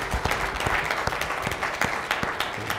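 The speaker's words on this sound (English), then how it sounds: "I'll give a round of applause for that." Audience at a university Black History Month unity forum applauds steadily, a dense wash of many hands clapping, moderately loud and sustained throughout without pause.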